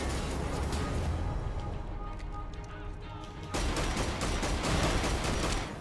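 Gunfire in the video game Wolfenstein: The Old Blood during a gondola battle, a continuous rattle of rapid shots that intensifies into a heavier burst partway through, with no talk over it.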